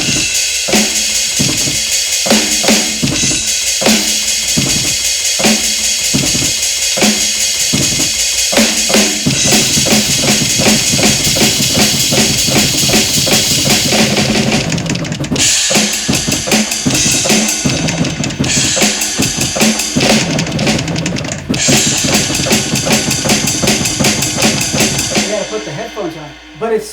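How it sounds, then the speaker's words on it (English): Drumsticks strike the pads of a Roland electronic drum kit in fast, loud, rhythmic metal-style patterns with double-bass work, the close tapping and thudding running continuously throughout. "It's so loud though because it's hitting the pad."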